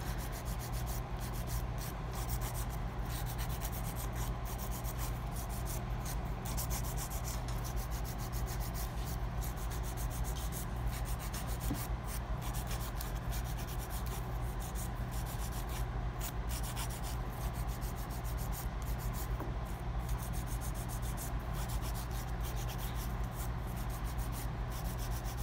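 An acrylic powder nail being filed by hand, a continuous steady rasping scrape that runs evenly throughout at close range without speech.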